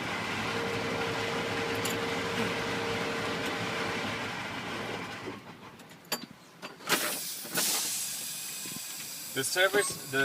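A truck's air brakes hiss in a long, steady, loud release during an air brake test, then give way to short bursts and clunks, with people talking nearby.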